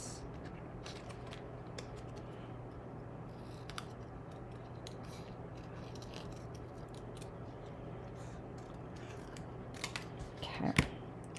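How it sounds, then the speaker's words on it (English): Scissors snip fussily around a stamped card image in short, faint crisp cuts over a steady low hum, with a louder rustle of paper near the end. "So I'm just going to kind of silly fussy cut around this."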